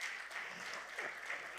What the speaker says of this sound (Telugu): అందరం గట్టిగా చప్పట్లు కొడదామా?